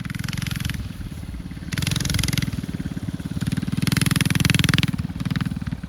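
Steady engine drone of an Arctic Cat Prowler mini bike while riding, rising and falling in pitch as the throttle shifts, loud and continuous, no talk.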